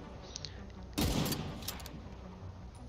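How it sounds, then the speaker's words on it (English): Gunfire in the Division 2 video game as windows are shot out, with a sudden loud burst of shots about a second in and further sharp cracks over steady game background noise. "all you need to do is start shooting these windows"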